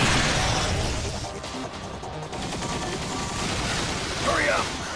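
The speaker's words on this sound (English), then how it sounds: "Yeah, shot the grenade." Gunfire and a blast in the third-person shooter Vanquish, a loud opening burst followed by a dense, rattling wash of shots and debris, with a sharper pop near the end.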